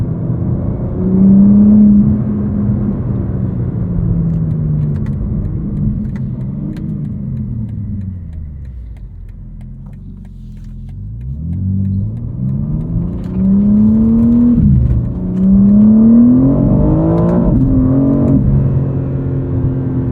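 A 2023 BMW M4 CSL's turbocharged engine revs and accelerates on the street, its loud rising tone climbing, dipping, then surging again in repeated pulls with no talk over it.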